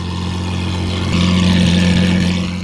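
A Nissan GT-R sports car idling loudly nearby, a deep steady engine rumble that swells slightly in the middle before settling, with no speech.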